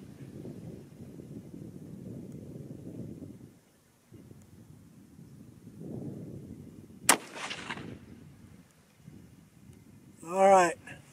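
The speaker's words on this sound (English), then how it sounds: "This is the last shot." A single loud .308 Winchester rifle shot fired outdoors with match powder loads, a sharp crack followed by a brief rumbling tail, set amid wind noise and quiet surroundings.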